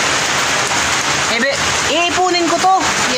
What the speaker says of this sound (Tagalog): pasensya na kayo, mga idol, maingay, umuulan kasi